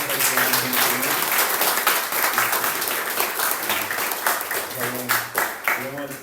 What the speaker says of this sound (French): on peut donner d'abord un grand applaudissement pour toutes les nouvelles personnes